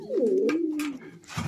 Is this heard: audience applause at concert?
no